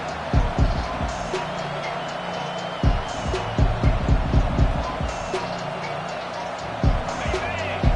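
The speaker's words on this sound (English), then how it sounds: "Decibels rising as the crowd gets behind this defense on 3rd down." A college football stadium crowd roars behind the defense on third down, a loud sustained wash of cheering with rhythmic thumps and claps rising throughout, under a commentator's voice.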